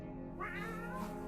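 A cat meows in the survival video game 60 Seconds, a single drawn-out, fairly faint mew rising and falling over a steady low game hum.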